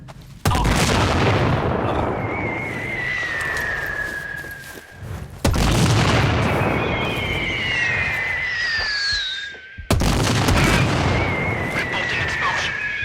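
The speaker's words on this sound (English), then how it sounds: "Ordering mortar strike on enemy position." Mortar strike explosions in the video game Sniper Ghost Warrior 3: three heavy booming blasts land a few seconds apart, each followed by a long rumbling decay with whistling tones trailing over it.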